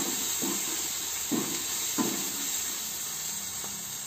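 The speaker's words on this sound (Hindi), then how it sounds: "देखिए मसाला बहुत अच्छे से भून रहा है।" Spice masala of coriander, cumin, black pepper and red chilli roasts in a pan for Pahari-style rajma, giving a steady close hiss and sizzle with a few soft stirring knocks.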